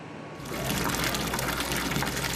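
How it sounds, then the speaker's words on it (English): Brown, discolored tap water running from a household faucet, a steady close splashing gush that starts abruptly and continues evenly. "This is the tap water coming out of their faucet."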